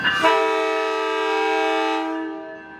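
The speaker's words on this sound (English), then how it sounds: "2302 also has a depressing horn, being this." A single sustained horn from NCTD COASTER commuter train 2302 blares nearby for a few seconds, a flat, slightly choked chord from a restricted horn that fades out at the end.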